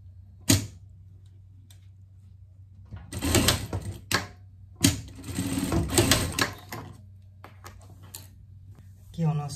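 A sewing machine stitches pleats into a Barbie-themed pet sweatshirt hoodie in short mechanical bursts, loud and close, with pauses and handling noises between runs of stitching and some talk nearby.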